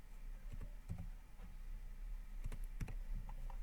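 Quiet computer keyboard typing: a few soft, irregular key clicks in short bursts, close to the microphone over a low background hum, with no talk.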